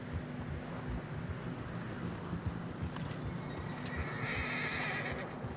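A horse neighs and whinnies in Red Dead Redemption 2 while riding a narrow, snowy trail, with a steady rumbling wind-like bed of game ambience throughout and no talk.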